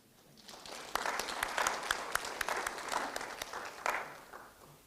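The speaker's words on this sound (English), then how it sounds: "We need to clap for Gen Z." Audience at a Pan African youth convention in Kenya breaking into applause, a dense, steady burst of clapping from a large hall that rises quickly, holds for a few seconds, then fades.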